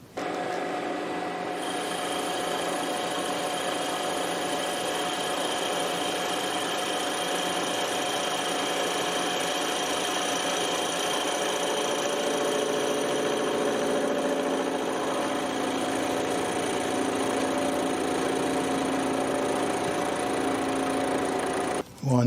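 Lathe boring pass cutting a bore at 2mm depth of cut while building a Lynx15 engine, a steady continuous machining whir with tonal hum running unbroken for the whole stretch, close and even in loudness.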